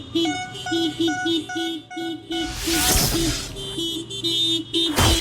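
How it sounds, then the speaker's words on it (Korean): Car horns honking repeatedly in a rhythmic pattern during an Independence Day parade in Ecuador, with cars decked out in flags and balloons, loud and near, with several overlapping horns and passing traffic. "이 차들이 지금 뭐 깃발 들고 풍선 달고 이렇게 빵빵빵빵 하면서 가거든요"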